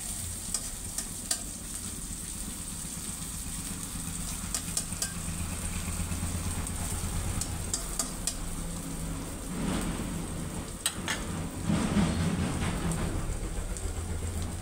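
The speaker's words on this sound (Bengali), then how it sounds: "ওই তেলের উপরে ডিমটা ছেড়ে দিলে ডিমের প্রকৃত স্বাদ পাওয়া যাবে এবং সুন্দর একটা ডিম ভাজা আমরা খেতে পারবো" An egg fries in hot oil in a wok, giving a continuous close sizzle with occasional crackles and stirring scrapes, no voices present.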